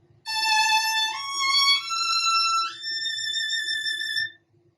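A violin played high up its range, a single bowed line stepping upward through several sustained, bright notes, loud and close with no talk.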